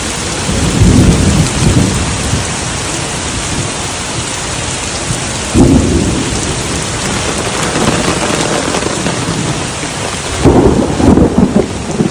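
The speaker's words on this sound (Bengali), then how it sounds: "না বিদ্যুৎ চমকানো শুরু হয়ে গেছে, আর ঘোরা যাবে না বৃষ্টির মধ্যে বাইরে" Heavy rain pours steadily while thunder rumbles three times, loud and close, with no voices, during a lightning storm.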